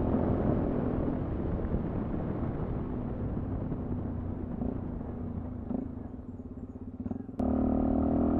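A 2020 Sinnis Terrain 125 motorcycle on the road, its small engine droning steadily and close with wind rush, dipping briefly before the revs climb sharply near the end.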